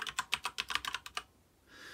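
Keys on a computer keyboard are struck in a quick, close run of about a dozen crisp clicks while a command is entered, followed by a short quiet pause and a faint hum.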